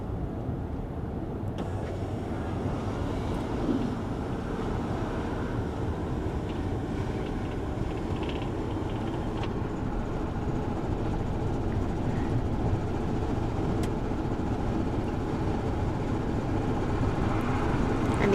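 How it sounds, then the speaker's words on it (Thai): Wind rushing in through the opened glass roof of an MG Maxus 9 while driving, a broad, steady low roar and buffeting that holds at an even level throughout without speech. "นี้ก็จะได้ยินเสียงลมตีเข้ามาด้วยนะคะ"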